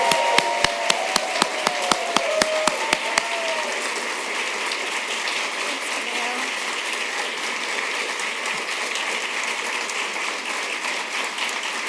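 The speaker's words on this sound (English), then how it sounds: "Please join me with a round of applause to welcome Professor Karen Arnold, the 2023 Last Lecture Honoree." A lecture audience applauds to welcome a 2023 Last Lecture honoree, a few sharp separate claps at first, then a steady, dense wash of clapping that goes on throughout.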